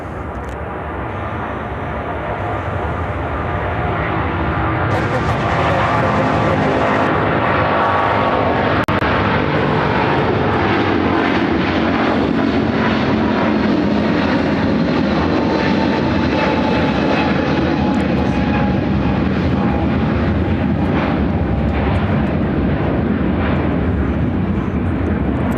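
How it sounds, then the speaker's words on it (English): A United Airlines Boeing 777-200 takes off from runway 28 right at Chicago O'Hare, its engine roar building and holding as a loud, broad, continuous rumble for the full run. "Now taking off runway 28 right, United Airlines 609, taking off to Los Angeles on a 777-200."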